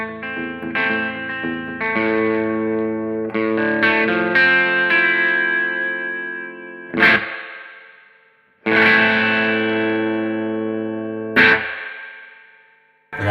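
Electric guitar played through a Marshall JTM60 1x12 combo with reverb turned fully up, giving a twangy Western tone: sustained chords and notes ringing out with long washy tails, then a few loud strummed chords left to decay, no talking.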